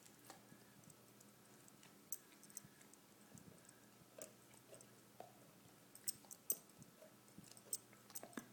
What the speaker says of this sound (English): Are you chewing on a bone?